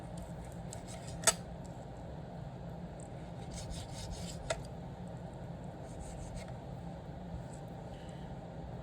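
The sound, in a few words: knife cutting the fat off meat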